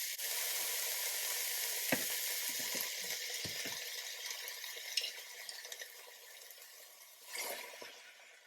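Tomato sauce sizzles loudly in a hot pan, a steady crackling hiss with a few clinks of a utensil stirring. The sizzle softens slightly toward the end.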